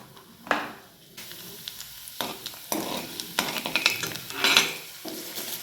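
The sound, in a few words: garlic and mustard seeds sizzling in hot oil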